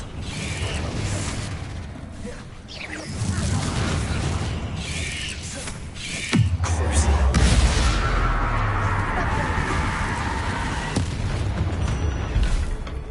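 Confringo and Bombarda spell blasts in Hogwarts Legacy: booming explosions with a deep rumbling impact midway, surrounded by mechanical creaks and rattling debris.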